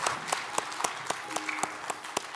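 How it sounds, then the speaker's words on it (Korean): A church congregation at a Korean Sunday service claps in a slow, steady, unified rhythm, roughly ten distinct beats, with a faint voice underneath. "하나님께 영광의 박수를 올려드리겠습니다"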